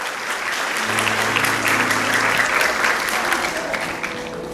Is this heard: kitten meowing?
no